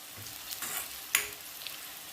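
Onion pieces frying in a pan, cooked until pinkish, for a spicy aubergine bharit: a soft, steady sizzle close by with a few scraping stirs and one sharper clink partway through.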